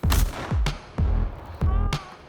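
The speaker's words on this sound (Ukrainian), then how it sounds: "Постріл!" Gunfire at the front line of the war in Ukraine: four sharp, loud reports about half a second apart, each with a short booming decay.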